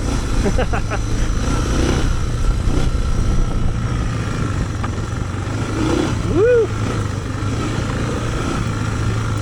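Suzuki DR650 dual sport motorcycle being ridden, a low steady engine drone with wind noise under the rider's voice, plus a brief rising whine partway through.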